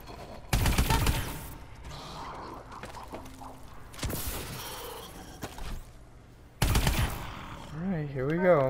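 Gunfire from a standard, non-DLC weapon in the video game Call of Duty Exo Zombies: three loud broadband bursts in a row, each a second or less, with game sounds and music running between them.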